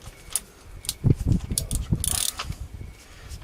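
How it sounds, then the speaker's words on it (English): A hand ratchet gently tightens a spark plug on a BMW E39 520, giving a close, quick series of clicking pawl ticks in short uneven bursts. "now tighten up gently again."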